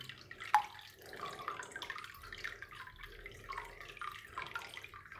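Water and shrimp are poured from a container into a home aquarium, a quiet, close splashing and trickling with small drips and gurgles that comes in uneven waves.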